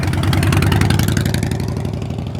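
A motorcycle engine held at a steady throttle during slow-speed riding practice gives a loud, continuous mid-low drone with a fine, even pulse throughout, close to the microphone and with no voices over it.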